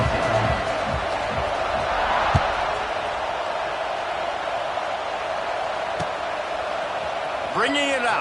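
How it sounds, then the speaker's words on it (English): A stadium crowd buzzes in a College Football video game, a steady roar that rises slightly and holds under the play-by-play commentary, with a sharp thump partway through. "this crowd is buzzing after that last score"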